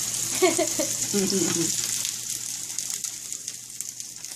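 Tofu (tokwa) frying in an old handleless pan (kawali), a steady close hiss of sizzling oil with a person talking briefly over it early on.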